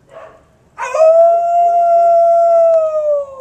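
A dog lets out a short yip, then a long, sustained howl that holds a steady pitch for a few seconds, close and clear.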